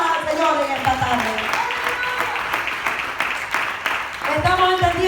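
A church congregation claps during a Spanish-language service, sustained dense applause for several seconds with a voice speaking over it at the start and end.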